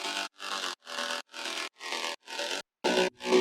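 Rhythmic bursts of a ShaperBox-processed synth sound in a progressive house track, gated into about eight evenly spaced chunks with sharp cutoffs and a gap near the end, bright and full.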